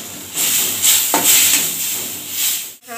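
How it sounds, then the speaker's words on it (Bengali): Spice paste with onions being stir-fried for a puti fish curry, with rhythmic spatula rubs and scrapes over a soft hiss, close and fairly loud, ending in a short clatter. "এখন মশলাটাকে ভালোভাবে কষিয়ে নেব।"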